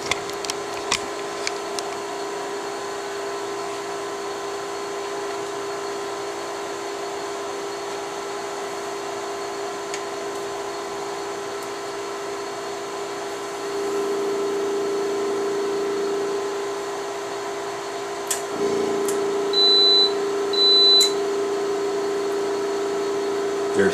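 A Karl Suss MJB4 mask aligner running a 4-inch wafer in hard contact: a steady mechanical hum and hiss throughout, with a few clicks early, a louder tonal drone entering midway, and short electronic beeps near the end.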